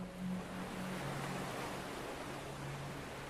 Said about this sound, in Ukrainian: Ви чуєте шелест хвиль, і вони потроху накатують і відступають.